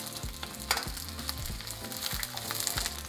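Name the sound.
chopped onion and garlic frying in oil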